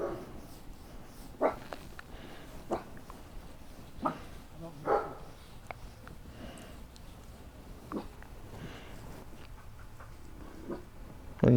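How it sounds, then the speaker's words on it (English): Dogs bark intermittently at a moderate distance, a few separate barks spaced out over several seconds against a quiet background. "What are those crazy dogs barking at?"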